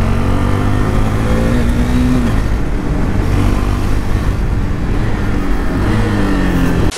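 A KTM RC 390 motorcycle engine drones loud and continuous while riding through the city, with rising revs and gear changes, close to the mic.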